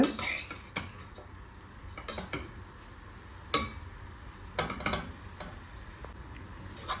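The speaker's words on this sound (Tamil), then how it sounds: "இந்த மாதிரி நம்ம சேர்த்த நெய் வந்து இந்த கேரட்டில் எல்லா சைடும் படுற மாதிரி நல்லா மிக்ஸ் பண்ணிக்கோங்க" Grated carrot is stirred in ghee in a pan for carrot halwa, giving intermittent metal clicks and scrapes of the utensil against the pan, with a few sharper knocks spread through.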